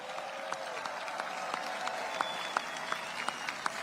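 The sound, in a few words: applause for the King and Queen of Belgium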